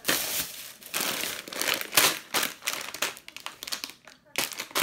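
A plastic shopping bag is handled and rustled in bursts of crinkling, close and fairly loud, with a voice speaking in between.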